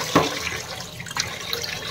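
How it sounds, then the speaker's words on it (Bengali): Tap water runs steadily into a sink while fish and rice are rinsed, a soft continuous splashing with a few brief clinks and drips. "এখন ধোয়াধুয়ি সব করবো"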